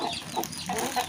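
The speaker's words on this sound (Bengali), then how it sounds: "এদিকে মাসি দেখো এখন মুরগি তুলছে" Six village chickens cluck and squawk in short bursts as they are gathered up at dusk, close and fairly loud, with no talk over them.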